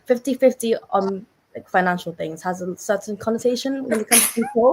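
A single sharp sneeze bursts out near the end of a women's conversational podcast, cutting briefly through steady, close talking voices.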